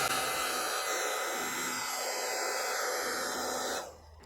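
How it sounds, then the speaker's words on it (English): A heat gun blows a steady, loud hiss of hot air onto a solder sleeve joining two wires for a Jayco caravan motion-sensing light, running continuously before cutting off near the end. "now we just simply get our heat gun, or you could probably use a hairdryer if you haven't got a heat gun, and you just heat it up"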